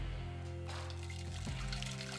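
Blended homemade teriyaki sauce pours back into a pan, a steady liquid trickle and splash against a continuous background hum, with no talking.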